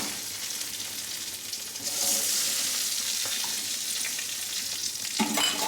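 Paneer sizzles loudly as it fries in a kadai, a steady broadband crackle that grows a little louder partway through and carries on without pause, with no voices over it.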